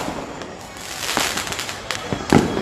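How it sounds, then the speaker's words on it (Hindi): Fireworks crackle and pop over rooftops in Old Delhi during Independence Day celebrations, a scatter of sharp bursts at moderate distance, the loudest near the end, with someone talking over them. "आतिशबाजी होती हुई"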